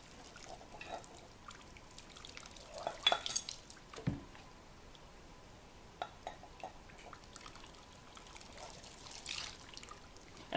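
Hot water mixed with cleaner trickles and splashes over an old SKS rifle barrel to strip cosmoline, a faint, steady pour with drips and light metallic clinks.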